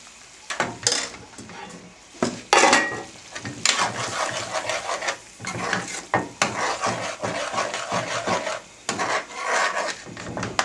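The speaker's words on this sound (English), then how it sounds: "Now we'll put in our second ladle of base gravy." Base gravy is stirred into a vindaloo curry in a pan, with loud, close, repeated scraping and stirring strokes over a bubbling sizzle and no talk.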